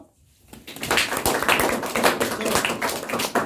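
Schoolchildren clapping together in a classroom to cheer a classmate, a dense burst of many small hands that starts after a brief quiet moment and carries on steadily and close by.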